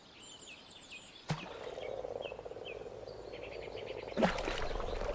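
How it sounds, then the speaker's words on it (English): Male common frogs croak in repeated short pulses in a farm pond in spring, layered over a dense insect-like chorus, with a couple of sharp splashes or knocks breaking in. "The first to arrive are common frogs, males, emerging from hibernation."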